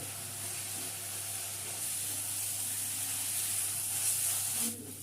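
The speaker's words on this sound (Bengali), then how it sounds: "লো টু মিডিয়াম ফ্লেমে রেখে পেঁয়াজ আদা রসুন বাটাটা ভালো করে ভেজে নিলাম" Onion, ginger and garlic paste frying in oil over a low to medium flame makes a soft, constant sizzle and hiss, quiet and steady, briefly dipping at the end.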